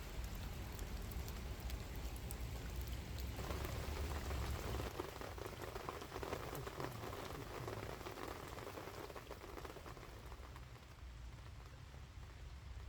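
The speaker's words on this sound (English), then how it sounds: "Go away, rain. We don't like rain." Steady rain falling in the open on a wintry fishing trip, a dense continuous patter of drops on surfaces, fairly soft and constant throughout with no voices.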